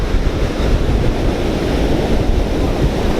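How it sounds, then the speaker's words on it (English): Ocean waves wash steadily onto the shore at Long Beach, a continuous broadband roar with wind buffeting the microphone and no voices. "We're at the beach right now"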